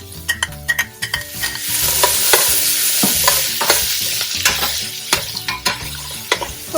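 Vegetables pan frying with fresh thyme, garlic and ginger, a loud, close, steady sizzle overlaid by frequent sharp clicks and scrapes of a utensil stirring against the pan; no voices.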